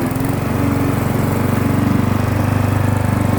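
A modified lawn mower engine runs loud and close in a rough, pulsing chug, its beat faltering unevenly as if nearly choking out, with no speech over it.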